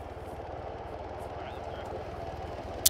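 Helicopter in the Arma video game approaches, a steady low rotor drone that holds evenly throughout under a continuous broadband rumble, with a sharp click near the end.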